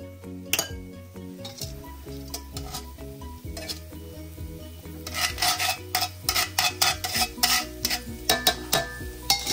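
Bacon grease sizzles in a pan as metal utensils clink and scrape against it, with the scraping growing busier and louder toward the end; nobody speaks.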